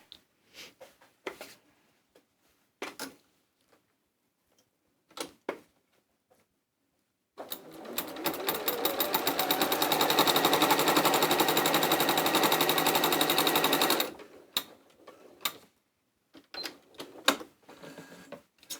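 A domestic sewing machine stitches quilt pieces in one steady, fast run of several seconds, preceded and followed by scattered clicks and handling noises in a quiet room.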